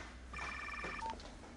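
A telephone rings in a quiet room, a short electronic trill with repeated bright warbling tones for under a second, then a brief single beep, with no talk over it.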